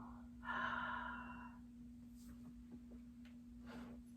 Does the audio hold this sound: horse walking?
no